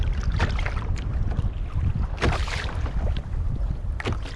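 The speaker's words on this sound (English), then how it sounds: "Got some of the waves coming in." Choppy waves slap and wash around a kayak at sea, with loud, continuous splashing and gusty wind buffeting close by and a few sharper surges breaking through.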